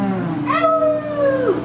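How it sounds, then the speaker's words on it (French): A cat gives one long, clear, drawn-out meow that rises and then trails off, close and loud. A steady background drone runs underneath, and no one speaks. "Il y a des chats qui sont présents."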